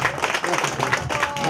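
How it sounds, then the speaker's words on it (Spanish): An audience at a community political gathering in New York claps for a legislator, with dense, continuous applause filling the moment. "Un fuerte aplauso"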